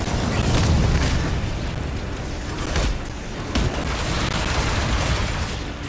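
Gunfire and explosions in the Marvel's Spider-Man video game form a loud, continuous barrage of booming blasts and bursts, with several sharper hits standing out over a heavy rumbling backdrop.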